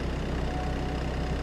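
Farm vehicle engine in Farming Simulator 22, a steady low idling drone that stays even and unchanging through a short stretch with no voices.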